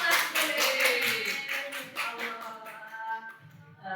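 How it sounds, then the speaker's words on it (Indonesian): Applause from an audience at a teachers' school-culture presentation, a burst of hand claps that fades over a few seconds while voices murmur underneath. "Tepuk tangan"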